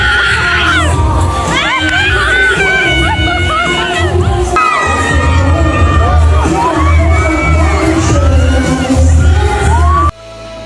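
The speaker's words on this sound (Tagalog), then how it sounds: "lalong hiyawan ang mga tao sa ginawang move ni Andrea" A crowd at a year-end beauty brand party shouts and cheers loudly and continuously, with high excited whoops and children-like shrieks rising over a dense roar that cuts off abruptly near the end.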